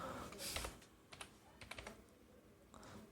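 Fingers type Bangla text on a computer keyboard, soft irregular key clicks in small quick clusters, faint and close, with no talking.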